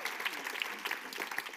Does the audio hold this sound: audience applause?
yes